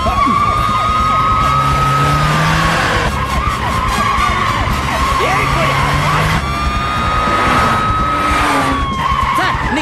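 A car speeds through turns in a comedy film scene, tires squealing in long wavering screeches over a loud, steady engine roar, with busy background sound and no clear talking.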